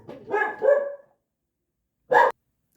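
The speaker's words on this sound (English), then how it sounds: "My dog started barking." A dog barking indoors nearby, a few loud yipping barks in a quick burst, a pause of silence, then one more sharp bark.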